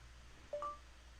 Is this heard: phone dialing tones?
yes